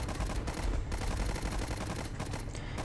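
Enemy machine gun in the WWI shooter Warfare 1917 rattles in a dense, continuous burst of rapid gunfire that fills the whole stretch, loud and sustained with no pauses.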